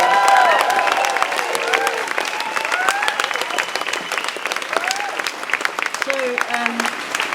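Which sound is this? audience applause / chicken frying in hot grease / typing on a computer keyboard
audience applause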